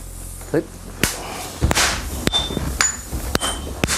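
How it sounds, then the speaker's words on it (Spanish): Large hammers forging red-hot iron for a samurai sword in a rustic forge in Kamakura, a series of sharp ringing metallic strikes spaced irregularly, loud and close. "Los estudiantes manejan los enormes martillos que dan forma al hierro al rojo"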